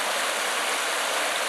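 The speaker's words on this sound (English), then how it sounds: "The stream is a current of water now." A swollen stream running high after a heavy northeaster rainstorm, a steady dense rush of water with no breaks, close and fairly loud, with no voices.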